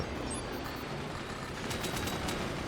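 Gunners firing in the Forts strategy game make a dense, steady rattle of distant gunfire and fusillade, with a few sharper cracks near the end and no talking.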